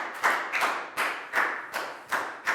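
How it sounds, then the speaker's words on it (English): A classroom of children applauding in a short burst of quick, irregular claps, seven or so sharp hits over a couple of seconds, close and fairly loud with no talking. "High five and a big round of applause for Pak Bung"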